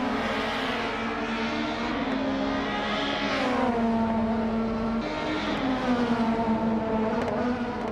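A McLaren F1 GTR Longtail and other race cars in a racing video game, engines droning at high revs with rising and falling pitch as they accelerate and shift, steady and continuous throughout.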